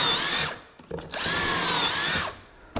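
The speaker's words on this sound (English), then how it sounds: "you're actually drilling the holes in the back of the board" A power drill whines loudly in two long bursts, bit grinding into the back of a wood trim board for pocket holes, with short pauses and a brief restart at the end.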